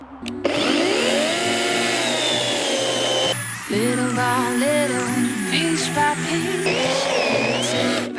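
A Vitals ARZ 3640S cordless battery chainsaw revs up and cuts, its motor whine rising and falling in pitch with load, loud and close, with no talk.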